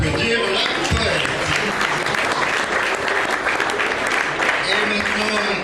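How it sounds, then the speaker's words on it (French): Loud, sustained applause from a poetry slam audience for a poet just after her scores are read out, dense clapping filling the room without a break. "On peut applaudir la poète"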